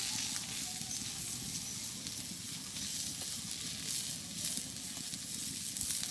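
Onion and chilli sizzling in hot oil in a village kitchen, a steady dense crackling hiss that runs unbroken and close throughout, with no talk over it.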